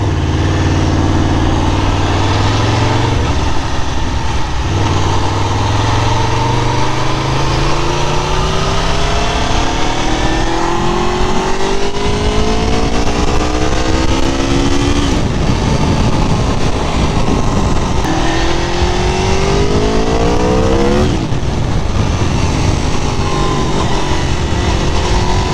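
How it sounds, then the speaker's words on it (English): A motorcycle engine revving hard alone, rising and falling through several long throttle sweeps with sharp pitch climbs, loud and close throughout. "this bike rips. I mean, like, you barely touch the throttle and this thing is"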